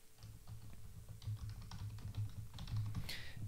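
An email address and password being typed on a computer keyboard, with quick, irregular key clicks close up and a slightly louder keystroke near the end, no voices.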